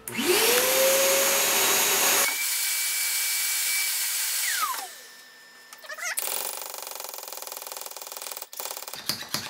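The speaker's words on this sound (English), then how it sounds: "just take your vacuum if you don't want to hand pump like crazy" A loud vacuum motor, evacuating a skateboard press bag, roars and rises in pitch, then drops to a lower strained hum before surging back up, running continuously throughout.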